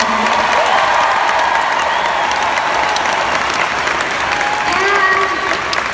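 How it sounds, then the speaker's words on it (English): Large arena crowd applauding a visiting Utah State gymnastics team at a collegiate meet in Pauley Pavilion, steady loud dense clapping with cheers and whistles throughout. "give Utah State a great round of applause for coming in"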